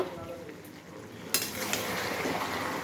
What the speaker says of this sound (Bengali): এবার ঢাকনা দিয়ে দেবো।